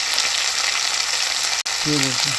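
Pointed gourd and potatoes fry in a spice paste of ginger, garlic, onion, turmeric and cumin, giving a loud, steady sizzle with a brief drop, then a short voice joins over the frying.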